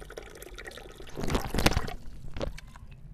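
Red sulfur (gandhak) liquid siphoned through a tube from a vessel set up high on a chair, giving a short burst of pouring and trickling in the middle before fading back to quiet.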